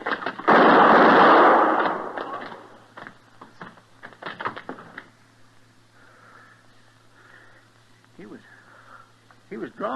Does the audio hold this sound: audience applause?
no